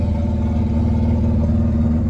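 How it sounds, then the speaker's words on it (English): A Mitsubishi Eclipse turbo engine runs with a steady, loud low drone and a faint higher whine, holding an even tone for about two seconds. "can you hear the turbo?"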